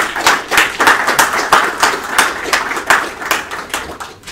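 Steady rhythmic hand clapping, a small audience at a marine separator product presentation applauding together at a lively even pace, close and loud throughout.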